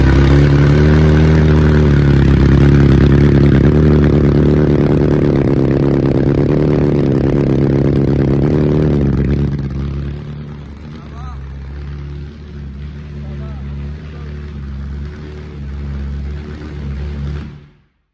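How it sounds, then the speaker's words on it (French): A BMW S1000 motorcycle with a baffled exhaust idles loudly and steadily at close range, then the engine note drops to a quieter rumble partway through before cutting off at the end. "Tu peux démarrer le véhicule"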